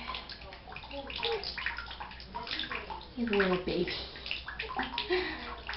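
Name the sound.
water sloshing while bathing a hedgehog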